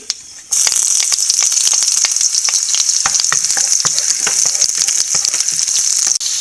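Dried red chilies and shallots drop into hot oil and burst into loud, steady sizzling, with crackles and stirring clicks throughout.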